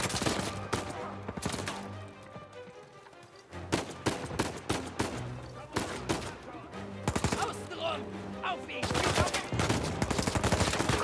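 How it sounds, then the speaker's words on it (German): Bursts of gunfire ring out in the video game Uncharted 4, with sharp single shots and rapid automatic volleys coming in clusters, briefly easing off before a dense, sustained barrage near the end. "Wo kommen denn die Schüsse her?"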